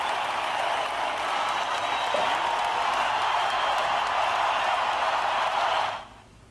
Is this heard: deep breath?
no